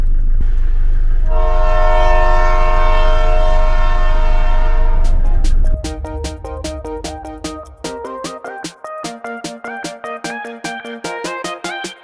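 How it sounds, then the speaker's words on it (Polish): A train horn blares loudly for several seconds in Cieszyn, Poland, followed by a steady, rhythmic clickety-clack of railcars rolling past close by. "O, no i ciuchcia jedzie."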